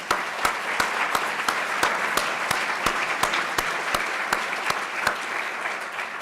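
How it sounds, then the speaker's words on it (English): An audience at a Hauenstein Center talk gives a sustained round of applause, with one loud clap punching through the steady crowd noise at a regular, almost metronomic beat. "Let's have a round of applause"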